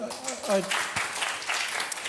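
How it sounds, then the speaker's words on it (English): An audience claps in a brief scatter of applause, with a voice speaking at the start before the clapping fills in at moderate volume. "you don't have to clap after every comment"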